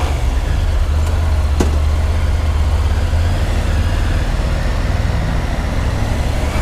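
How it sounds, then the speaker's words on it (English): A Triumph Tiger 900 motorcycle engine idles and rumbles steadily up close, a constant low drone with a brief sharp whine partway through. "nice engine sound"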